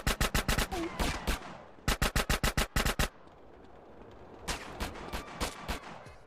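Automatic gunfire in the mobile version of the GTA San Andreas video game: rapid bursts of sharp, loud shots in quick runs, a short pause, another tight burst, then softer scattered shots trailing off.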